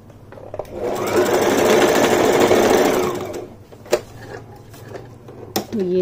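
A sewing machine runs a steady, fairly loud whirring stitch line along a kaftan for about two seconds, then stops, followed by a few sharp handling clicks and knocks.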